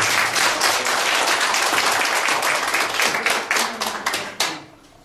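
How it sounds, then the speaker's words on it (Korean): A room of attendees at a Korea University national policy executive course claps together in dense, sustained applause that tapers off toward the end. A faint voice sits underneath. "그런 의미에서 부탁의 박수 한번 보내주십시오"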